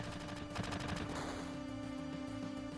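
Gunfire from a Mighty Grunt's Double Shot attack in Final Fantasy, a rapid burst of shots in the first second and a half over a steady game music bed.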